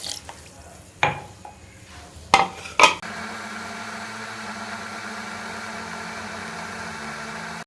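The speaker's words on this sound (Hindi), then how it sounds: "ये सारे जामुन को मैं ब्लेंडर में डालूँगी" A blender whirs through jamun berries and water, starting with a few clanks and knocks, then settling into a loud, steady motor drone that runs on unbroken.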